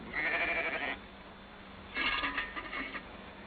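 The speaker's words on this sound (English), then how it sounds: "They are watching the sheep as they move about, eating tender young grass." Two bursts of sheep bleating, the first a long wavering call, then after a pause a second rougher bleat, fairly close, with no talking.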